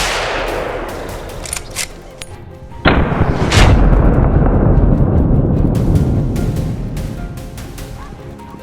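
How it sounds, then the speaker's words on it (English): A rifle shot is fired at a wild boar on a farm, giving one sharp loud crack followed by a long rumbling boom and roar that fades slowly, with faint rustling before it. "with a rifle in hand, John quickly took aim, squeezed the trigger,"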